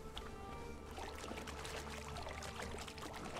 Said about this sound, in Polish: musimy iść wody się napić